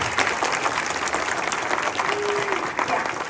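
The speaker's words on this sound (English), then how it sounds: "can we give Janet a big round of applause" Audience applause at a leadership training session, steady clapping from a room of people that holds at an even level throughout, with some voices mixed in.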